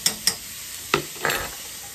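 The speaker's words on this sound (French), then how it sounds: "On remue tout ça à feu pas trop fort parce qu'on ne veut pas colorer, seulement faire ressortir les parfums." Flageolet beans and vegetables are stirred in a pan over gentle heat, giving a few soft, close scrapes and clicks of a utensil over a faint sizzle, with no talking.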